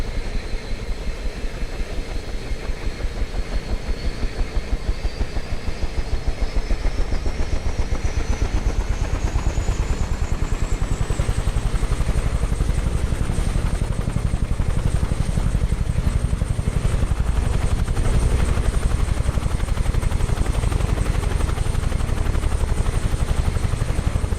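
A helicopter in Microsoft Flight Simulator spools up: loud, continuous turbine roar with rapid rotor chop, a whine rising steadily in pitch for about ten seconds then holding high and steady.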